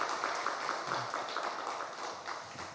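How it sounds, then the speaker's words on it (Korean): The congregation at a Friday Holy Spirit prayer meeting at a Korean church applauds the praise team, a dense, steady wash of clapping with a faint regular pulse, heard from some distance. "오늘 우리 금요 성령 기도회 찬양팀으로 우리 수고해 주신 분들께 우리 격려의 박수하겠습니다."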